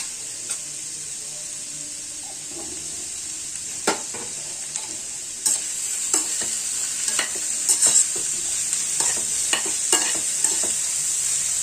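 Vegetables sauté in a pan on the way to a chicken roll filling, a steady bright sizzle broken by scattered spoon scrapes and stirring clacks that grow busier toward the end.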